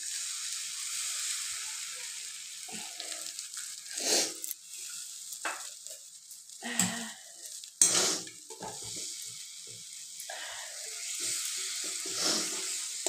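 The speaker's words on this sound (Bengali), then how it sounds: "ডিমটাকে আমি এইভাবে খুন্তির সাহায্যে নাড়িয়ে নিচ্ছি।" A metal spatula scrapes and stirs two cracked eggs in a wok over a medium flame, soft sizzling running underneath irregular clinks and scrapes, close and moderately loud, no talking.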